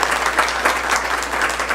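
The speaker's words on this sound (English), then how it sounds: "I think we should all applaud his success." A city council meeting audience applauds Donovan, steady clapping from many hands filling the room at moderate loudness for the whole stretch, with no speech over it.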